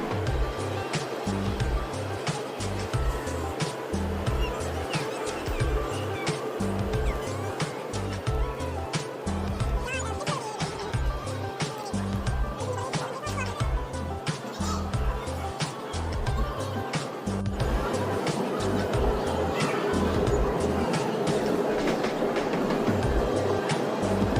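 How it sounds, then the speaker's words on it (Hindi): A passenger train rattles along with a steady rhythmic clatter of wheels and a rushing rumble heard from on board, and people talk over it. "ट्रेन आ गई थी और हम लोग बैठ गए हैं और जा रहे हैं साथ में।"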